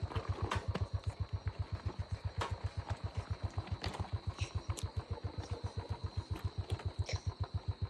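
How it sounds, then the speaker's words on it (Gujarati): Motorcycle engine idling and puttering slowly, a steady low rhythmic thump of firing pulses running evenly throughout, fairly faint with a light background hiss and a few scattered clicks. "પેલી બાઈક ભી ધીરે ધીરે આવતી છે"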